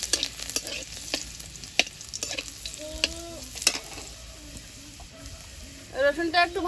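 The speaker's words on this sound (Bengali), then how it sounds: "রসুনটা একটু ভাজা ভাজা হয়েছে," Crushed garlic sizzles in hot oil in a pan in a village kitchen, a continuous frying hiss punctuated by sharp scrapes and taps of a stirring utensil, close up with no talk.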